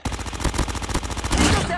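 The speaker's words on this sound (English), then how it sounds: "Sentry gun ready to deploy. Sentry gun deployed." A sentry gun fires rapid, evenly spaced automatic bursts in the mobile shooter game Call of Duty Mobile, loud and close, with an in-game voice speaking over the end of the firing.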